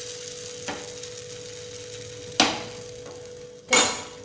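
A paratha frying on a hot tawa gives a soft, steady sizzle, broken by three sharp scraping clatters close by, with no one talking.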